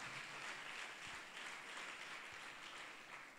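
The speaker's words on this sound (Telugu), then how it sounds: "కరతాళ దండలతో గట్టిగా చప్పట్లు కొడితే కృతజ్ఞతలు తెలియచేద్దాం" An audience at a Catholic National Youth Sunday mass applauds to thank the priest, a faint, distant, steady wash of clapping that holds evenly throughout with no voices over it.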